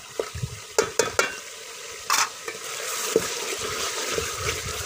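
Browned meat fries in a pot with salt, red chili and turmeric, sharp clinks and scrapes of stirring over a rising wet sizzle that grows steadier toward the end, no talking.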